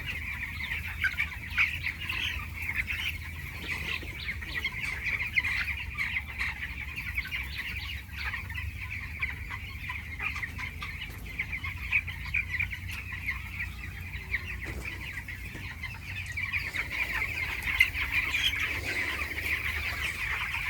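A large flock of 15-day-old farm chickens in a village poultry shed keeps up a constant dense chorus of chirps and clucks, steady throughout with no talking.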